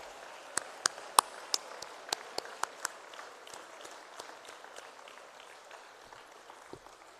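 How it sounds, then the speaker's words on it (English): Applause at the KwaZulu-Natal National Senior Certificate results announcement, faint distant claps, sparse and irregular, trailing off into a soft room hum with little talk. "Big round of applause."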